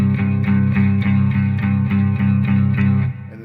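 Electric guitar through distortion and chorus effects playing the fourth and root together, a loud, sustained two-note dissonant interval with rhythmic repeated picking.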